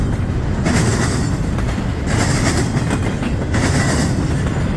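A Union Pacific freight train with a DPU locomotive mid-train rolls past close by, a loud dense rumble with rhythmic clickety-clack of wheels that holds steady throughout.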